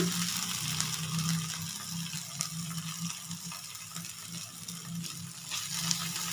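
Green peas go into ginger and spices frying in oil for aloo matar kachori filling, a quiet, steady sizzle with faint stirring scrapes and a few clinks up close.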